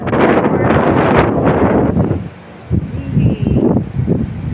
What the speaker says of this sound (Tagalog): Ang hangin oh.